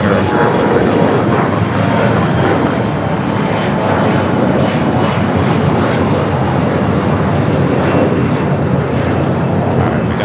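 Loud, steady jet roar of a Korean Air Cargo Boeing 777 freighter at LAX, a broad continuous rumble filling the whole stretch with no pauses.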